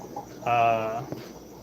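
Crickets kept in a small cricket farm at an aquarium and pet shop give a brief, buzzing chirp lasting about half a second over a quiet indoor room hum, with no talking.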